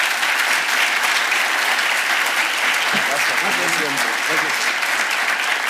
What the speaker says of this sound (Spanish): Un aplauso y el agradecimiento.